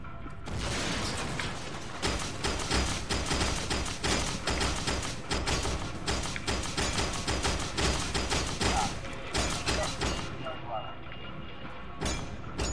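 Rapid booming gunfire from a shotgun in the first-person shooter F.E.A.R. 2, loud dense repeated blasts and impacts for around ten seconds, with players talking over the combat.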